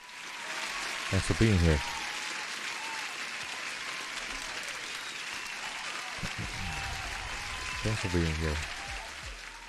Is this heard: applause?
yes